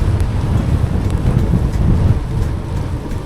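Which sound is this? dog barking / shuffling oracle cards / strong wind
strong wind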